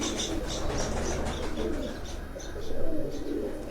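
A pigeon coos repeatedly on a rooftop loft among fancy pigeons, the soft calls steady and close over a constant noisy background, with faint chirps mixed in.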